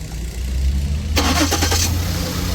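A 2009 Lincoln MKX engine cranks briefly, then catches and fires up into a loud, close idle with a quick rev after the starter stops, heard alone without talking.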